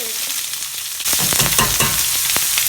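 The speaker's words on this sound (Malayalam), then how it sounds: "അപ്പോൾ ഓയിൽ ചൂടായിട്ടുണ്ട്. നമുക്ക് ഇതിലേക്ക് ഇനി ചേർക്കാനുള്ളത് 2 സവാള ഇങ്ങനെ അരിഞ്ഞു വെച്ചിരിക്കുന്നത്" Two chopped onions hit hot oil and break into a sudden loud frying hiss partway through, crackling and popping steadily up close after a quieter start.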